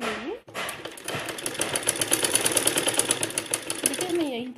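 A sewing machine runs steadily, stitching a straight seam on a fancy blouse back design, with a continuous rapid needle clatter over a few seconds after a brief pause at the start, and a voice speaking faintly beneath it.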